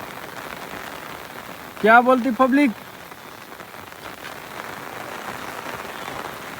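Rain falling steadily on a farm, a close, even patter that continues throughout, briefly interrupted by someone speaking loudly for a moment near the start.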